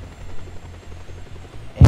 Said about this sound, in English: And now it's time to let the helicopter go.